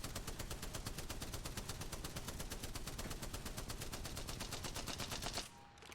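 An automatic weapon in the video game Apex Legends empties a full 55-round magazine, a loud, rapid, steady stream of shots that stops abruptly near the end.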